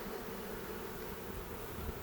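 Honey bees from a hive cut out of a floor make a steady, dense buzzing drone that fills the whole moment at a low, even level.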